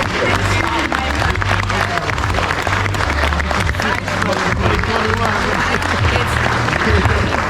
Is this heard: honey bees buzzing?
no